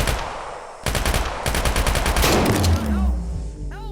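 Rapid bursts of automatic gunfire and single shots crackle loudly in a multiplayer VR shooter played on a Quest headset, with repeated volleys and a voice speaking underneath.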